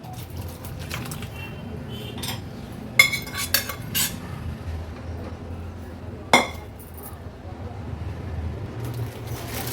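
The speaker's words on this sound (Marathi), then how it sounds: "आता ही भाजी एका कढईत मी काढून घेते।" A metal spoon scrapes and clinks against a kadhai while vegetable curry of field beans, tomato and potato is transferred, scattered sharp knocks over a low kitchen background.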